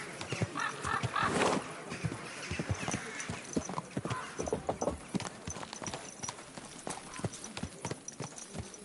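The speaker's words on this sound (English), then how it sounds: "Easy, good horse." Rhythmic horse hoofbeats from the video game Kingdom Come: Deliverance 2 clip-clop steadily on a hard surface, with a brief whinny early on and quieter shuffling between strides.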